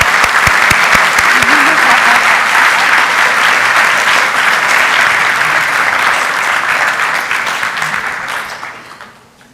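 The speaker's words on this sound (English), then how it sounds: "so let's give them a big round of applause" Audience at a school board of education meeting applauds students for promoting their club, a loud sustained round of clapping that holds steady for most of its length before tapering off at the end.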